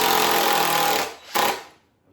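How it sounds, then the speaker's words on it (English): Power drill driving a screw through a deer skull cap into hardened Bondo body filler during taxidermy mounting; a steady loud whirring grind for about a second, then a brief second burst before it stops. "All I do is drill through the skull cap"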